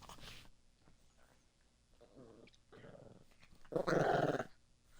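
A playful dog growling on a bed, several low rumbling growls in short bursts with one longer louder grumble, close and intimate.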